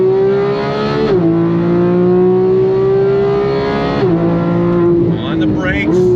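2015 Porsche 911 GT3 engine under full throttle, a loud sustained high-revving wail that climbs steadily, drops briefly at two quick upshifts, then rises again, heard from inside the car, with someone talking over it.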